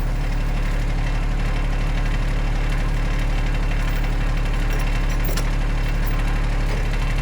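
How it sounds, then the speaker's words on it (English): A steady, low tractor engine idles continuously in the woods, a deep rumble with faint knocking throughout, no voices present. "I pull out the chains and fire up the tractor to get them unloaded."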